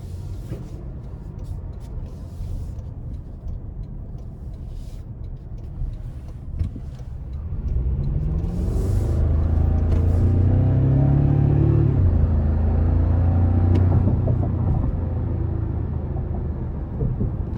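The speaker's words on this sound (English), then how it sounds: "I am gonna give it some throttle" A new 2024 Toyota Tacoma Limited pickup, switched into Sport Plus mode, accelerates under throttle. A low cabin rumble swells midway into a louder, rising engine drone that stays strong to the end.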